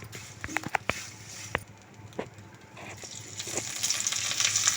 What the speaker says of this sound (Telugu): ఇప్పుడు మాడకుండా నిదానంగా వేయించుకుందాము.